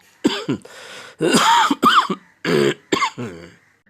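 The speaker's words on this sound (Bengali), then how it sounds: "কাশিটা তো কমছেই না কিছুতেই" A cartoon character coughs and clears its throat in a run of several harsh, separate bursts, close and loud, with no talk in between.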